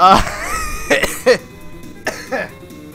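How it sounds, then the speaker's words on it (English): A coughing fit breaks out during laughter: several harsh, close coughs and throat-clearing bursts in quick, irregular succession, mixed with laughing vocal sounds. "coughing fit while laughing"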